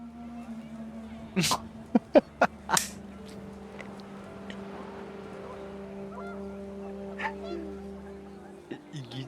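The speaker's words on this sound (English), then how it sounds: "The wind picked up and panicked geese appeared and quickly went." Panicked geese honk in the video game What Remains of Edith Finch as the wind picks up: a quick burst of several sharp honks near the start, then fainter scattered calls over a low ambient hum.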